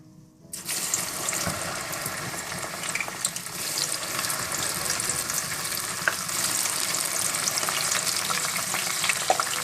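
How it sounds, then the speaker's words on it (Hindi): Okra fries in hot oil, with a dense, even crackling sizzle starting abruptly and continuing close and fairly loud, broken by faint occasional clinks and no voices. "इसके बाद खुला तेल गरम कर लें और इन भिंडियों को हम खुले तेल में फ्राई करेंगे।"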